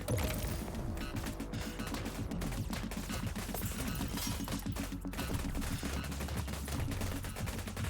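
Gatling towers fire in the tower defense game Rift Riff, a dense, continuous rattle of rapid shots with crashes mixed in, loud and unbroken throughout.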